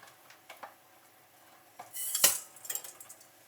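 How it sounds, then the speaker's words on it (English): Butter and sugar for a butter cake being mixed in a bowl, heard as soft scraping and light utensil taps, with one loud metallic clink near the middle. "we have to mix the butter and the sugar until well combined."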